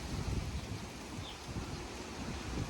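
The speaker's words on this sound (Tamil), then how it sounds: "பார்த்தீங்களா என்னென்று காற்று ஆடுது" Wind gusts through garden trees in Montreal just after rain, a steady broad rushing with low rumbling buffets against the microphone and faint leaf rustle, no voices.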